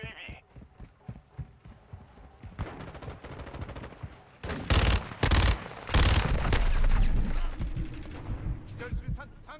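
Gunfire in the video game Call of Duty Modern Warfare II: scattered shots at first, then loud bursts of rapid fire and blasts, while a voice speaks over the in-game action.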